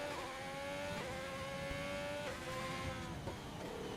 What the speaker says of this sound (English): he's maxing out his revs a lot there